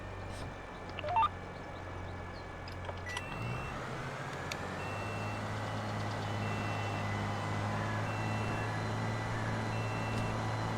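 A tractor in a farming video game on an Iowa row-crop map gives faint, brief warning beeps under a steady engine drone, which then swells and carries on alone.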